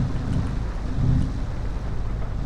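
Heavy rain falls in a video game scene with a car driving, a dense, loud low rumble with a steady wash and no speech.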